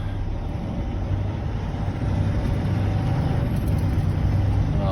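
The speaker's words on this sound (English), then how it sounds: "And I'll back underneath it." A truck reverses slowly to back underneath a trailer while hooking up double trailers, its engine a steady low rumble that grows slightly louder partway through, close by with no talk.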